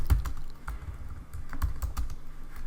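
Someone typing on a computer keyboard while writing Java code: soft, fairly rapid clicking keystrokes in an uneven rhythm, close and fairly quiet.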